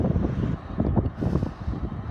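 Gusts of wind buffet the microphone in low, uneven rumbling bursts at Edinburgh Waverley railway station, steady throughout with no voices.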